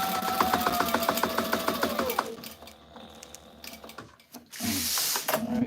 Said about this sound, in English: there's going to be one pass of stitching to close the mat pocket there on the side